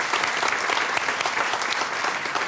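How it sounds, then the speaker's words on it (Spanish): A television studio audience at a Canarian folk music show applauds after a singer's performance, a steady, dense wash of clapping that holds at full strength throughout without letting up. "Un aplauso para esta gran voz, sin duda."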